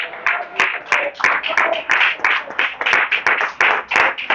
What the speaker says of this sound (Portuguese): Mas vem aplaudindo bem forte ao Senhor.